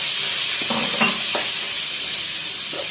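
Onions with green chillies and curry leaves sautéing in oil for a prawn stir-fry: a loud, steady hiss of frying with a few stirring scrapes, close and without talk.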